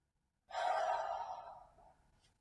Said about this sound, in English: In, wait, and big breath out with the eruption.